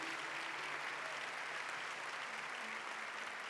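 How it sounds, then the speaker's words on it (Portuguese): Applause from a church conference audience, a dense steady roar of clapping that holds evenly throughout, heard from within a large hall, with a faint tonal hum underneath. "Forte aplauso"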